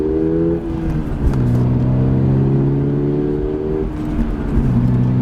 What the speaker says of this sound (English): the BRZ drives way, way, way better under hard acceleration.